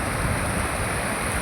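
A waterfall pours steadily, a dense, continuous broadband rush of falling water with no breaks, loud and close throughout.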